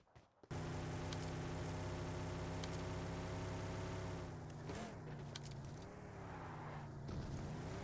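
A car engine in PUBG Mobile drones steadily with a high, synthetic hum, rising and dipping slightly as the vehicle drives, with no talking over it.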